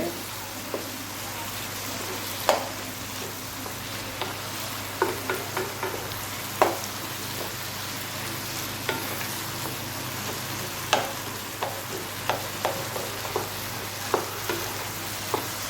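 Coconut and other ingredients for spicy kara chutney sauté in a pan with a steady, close sizzle, while a spatula stirs and taps at irregular intervals throughout. No one speaks.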